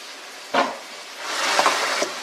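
Onions and meat fry in a pot with a steady sizzle that swells midway, broken by a few sharp stirring clatters.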